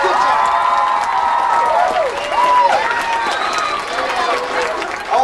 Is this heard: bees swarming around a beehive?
no